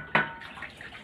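Water poured over cut chicken pieces during washing, a sudden splash at the start followed by softer trickling and sloshing, close and fairly quiet with no talk.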